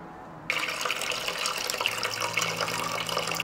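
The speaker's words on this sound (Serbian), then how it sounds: "vodu iz tegle presuću u šerpu" Water is poured from a glass jar into a cooking pot, a steady, close splashing stream that starts abruptly and runs continuously for about three seconds in a quiet kitchen.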